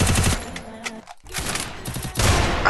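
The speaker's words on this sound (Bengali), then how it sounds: "সোনালি ইউএমপি দিয়ে শট দিচ্ছে আর প্লেয়ার মরে যাচ্ছে।" Rapid automatic gunfire from a golden UMP in a video game, loud bursts of shots with a brief pause in the middle before firing resumes.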